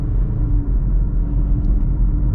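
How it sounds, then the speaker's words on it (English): A 2023 Subaru Outback Onyx Edition with a Lineartronic CVT accelerates, giving a steady low engine rumble and road drone heard from inside the cabin, even and unbroken throughout. "let's kind of get up and move a little bit here. Let's see how this Lineartronic CVT performs"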